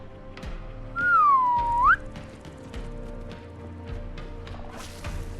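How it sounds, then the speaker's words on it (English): A person whistles a single rising-then-falling tone for about a second, loud and close, while a Fallout: London game plays with scattered thumps and clanks before and after. "I don't know if I've ever whistled on stream before."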